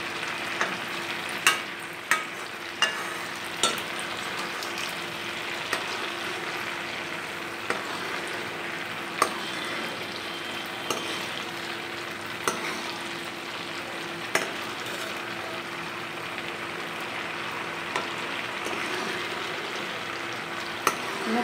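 Butter simmering into ghee in a pot, a steady soft bubbling sizzle running throughout, with regular light scrapes and taps of a spoon stirring it every second or two; no voices.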